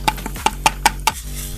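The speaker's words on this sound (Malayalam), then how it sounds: "അപ്പോൾ ഇനി നമുക്ക് കുറച്ച് ഉള്ളി ഇടാം പൊരിക്കാൻ വേണ്ടിയിട്ട്" Onions frying in fresh coconut oil for a beef biryani, a series of about six sharp stirring scrapes over a steady close sizzle, with no voices.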